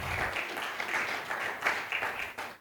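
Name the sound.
congregation applauding in church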